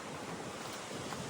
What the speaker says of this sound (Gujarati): અહીંયા પવન ને મસ્તીનું છે